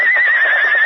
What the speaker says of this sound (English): The big paint horse raced over the plains at a gallop.